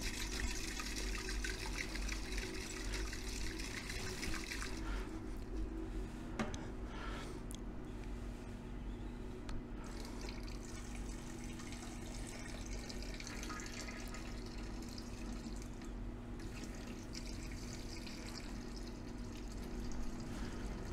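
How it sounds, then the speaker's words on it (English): Distilled water splashes and pours steadily into a container to rinse electrolyte off harvested pure silver crystals, a continuous close liquid gush with a brief louder start, no talking. "Just throw some distilled water in here and try to get the rest of this electrolyte rinsed off of our pure silver."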